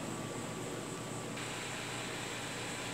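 A pool pump runs outdoors, giving a steady loud broadband whoosh and hum that stays constant throughout, close by with no other sounds over it.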